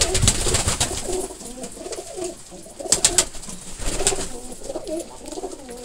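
Domestic pigeons of several fancy breeds coo in a loft, overlapping throaty calls rolling in repeated bursts close by, with a few sharper flutters and knocks around the third and fourth seconds.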